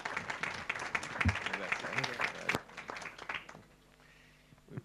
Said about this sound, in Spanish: muchas gracias, Guillermo, un aplauso.